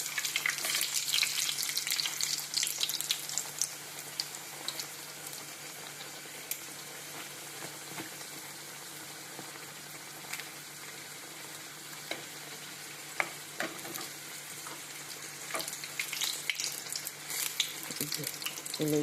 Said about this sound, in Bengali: আমি একসঙ্গে চারটা করে ছেড়ে দেব